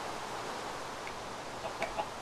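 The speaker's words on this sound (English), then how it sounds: "See the chicken?" A chicken in the video game Minecraft gives a couple of short, faint clucks near the end, over a steady hiss of background noise.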